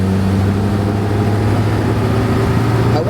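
A 1954 Sunbeam Talbot Alpine roadster engine drones at a steady low hum as the car pulls away, loud and close, with wind noise and no speech.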